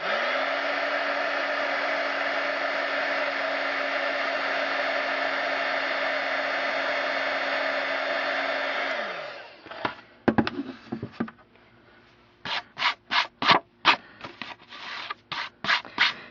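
A heat tool blows a steady, loud whirring hum while heat-setting Stampin' Up heat and stick powder, running continuously for about nine seconds before switching off, followed by a series of close scratchy brushing and tapping sounds.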